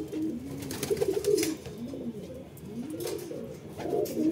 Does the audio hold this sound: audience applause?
no